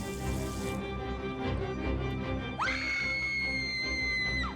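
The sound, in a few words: girl screaming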